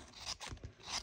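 Short crisp snipping and scraping of scissors cutting through paper, a few quick cuts close up.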